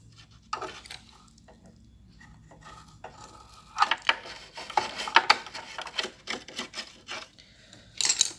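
Stiff brush scrubbing dirt from the underside of a portable machine, a series of scratchy, rasping strokes in irregular bursts, close and fairly loud, with quieter handling noises between.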